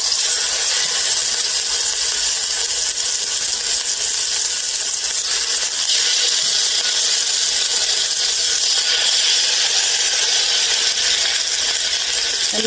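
Chicken breast and tenderloin pieces sizzle in hot oil in a wok, a loud, steady, dense hiss and crackle that continues unbroken throughout with no talking.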